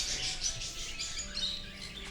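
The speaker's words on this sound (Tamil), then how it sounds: "நீங்கள் உள்ளே போனீங்கனாலே வந்து எல்லா பறவைகளும் மேலே உட்காந்துரும்" Birds chirping in the trees at Fundera Park in Yelagiri, a busy layer of high, faint tweets over a soft outdoor background.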